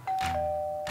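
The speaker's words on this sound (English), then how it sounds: "Hey, Park Ranger OB, hey, the doorbell's ringing, man." A doorbell chimes once, two bright tones in quick succession ringing out clearly, with a faint thump at the start.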